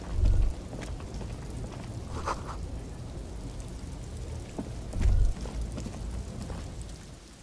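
Steady rain falls in the Disco Elysium video game, a dense, even hiss with a couple of deeper low thumps and rumbles partway through, continuing without voices.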